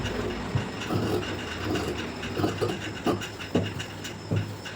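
Blouse fabric being cut with scissors, giving a series of close, dry snips and rustling rubs at an uneven, steady pace.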